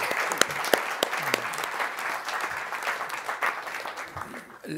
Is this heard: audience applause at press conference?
yes